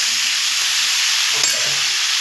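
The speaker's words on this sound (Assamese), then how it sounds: "ভাজিখিনিও বহাই দিলোঁ মই ধুনীয়াকৈ" A vegetable fry cooks in a pan with a loud, continuous close sizzle and hiss, broken by a brief scrape of stirring midway, with no talking.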